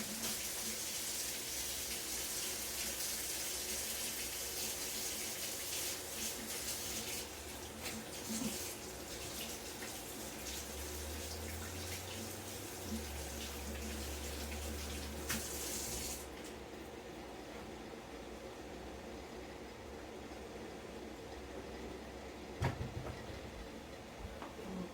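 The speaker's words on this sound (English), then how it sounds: "Let me wash my hands." Water runs steadily from a kitchen tap as hands are washed, a continuous close splashing hiss that lasts nearly the whole time before cutting off, with no talk over it.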